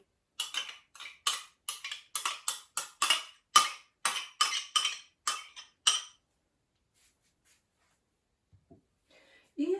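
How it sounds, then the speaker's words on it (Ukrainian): Cutlery scraping and clinking against a bowl while a low-calorie chicken salad is tossed with its sauce, a quick run of about fifteen sharp, bright strokes, then quiet with a couple of faint taps. "ретельно перемішуємо"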